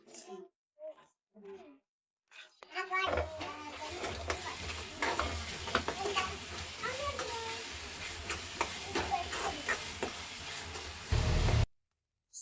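Ground masala sautéing with prawns in a pan for a dry prawn gravy, a steady sizzle with scraping stir strokes that starts after a few seconds of quiet and runs to the end.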